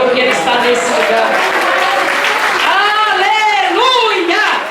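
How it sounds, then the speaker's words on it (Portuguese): A church congregation applauds in a steady, dense wash of clapping during a Portuguese-language service, while a preacher's loud amplified voice carries over it throughout. "aplauda o Senhor porque Ele está nesse lugar"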